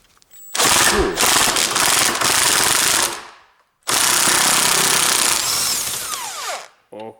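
An electric power tool fitted with a 24mm socket loosens a bolt on a steel vise workbench in two loud, sustained bursts of rattling motor noise, each lasting about three seconds, separated by a short pause.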